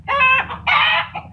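Chickens cluck and crow loudly up close near a chicken coop, two dense bursts of squawking calls separated by a short pause.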